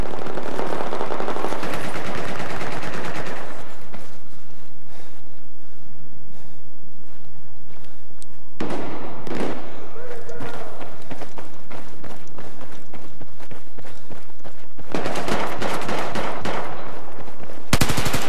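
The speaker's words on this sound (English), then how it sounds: "this is a burst fire weapon" Burst-fire weapon shooting in Battlefield 4 Gun Master mode: loud rapid gunfire in several dense stretches, near and sustained, separated by quieter gaps of game ambience.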